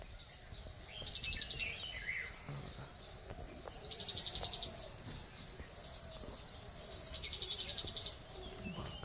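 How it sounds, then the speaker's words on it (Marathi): Various birds call from a tree in a Konkan village: three bright, rapid trilling bursts repeat about every three seconds, with scattered chirps and calls between them, fairly close and clear over a quiet background. "ऐका, वेगवेगळे आवाज पक्ष्यांचे।"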